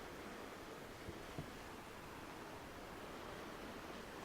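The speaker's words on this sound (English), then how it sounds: "There's the Atlantic Ocean." Steady broadband roar of Atlantic Ocean surf at the Bay of Fundy near the Hopewell Rocks, a continuous distant wash with faint wind, no voices.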